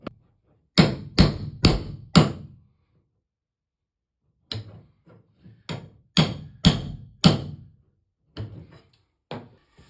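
A hammer taps a nail puller into a bathtub drain that has a broken cross piece: four sharp, close knocks in quick succession, a pause, then a looser series of lighter and heavier taps.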